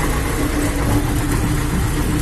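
A YuMZ tractor engine runs steadily and loudly up close, a dense continuous rumble with no pauses and no speech, while towing a seed drill along a rough field road.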